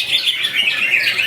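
A green leafbird (cucak ijo) sings at a bird contest, a brief, bright burst of rapid high chirps and trills heard close and clear.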